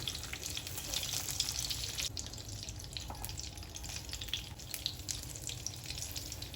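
Stuffed brinjals fry in a pan with a low, steady sizzle and watery hiss, broken by a few faint clicks as pieces are set down.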